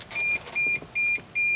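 A T1N Sprinter van sounds its chime when the ignition key is turned on: four evenly spaced electronic beeps, close and clear, in a quiet cab.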